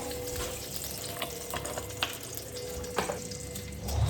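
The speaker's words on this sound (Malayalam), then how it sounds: "അപ്പം കടുകിട്ട് നല്ല തിളച്ച് വരുന്നു" Mustard seeds crackle and sizzle in hot coconut oil in a home kitchen for mango pickle, a steady close frying hiss with scattered sharp pops and a few louder bursts, no talk.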